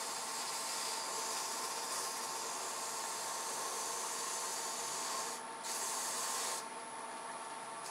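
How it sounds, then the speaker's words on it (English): Steady abrasive rubbing hiss of the bottom of a small wooden box being sanded on a spinning sanding mandrel, continuous and close, with a brief dip before it resumes. "Sanding the bottom."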